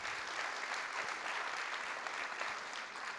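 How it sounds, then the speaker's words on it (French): Applause from an audience at the closing speech of the "Les Idées mènent le Monde" event, an even wash of many hands clapping at a distance, fairly quiet and steady throughout. "et on peut les applaudir"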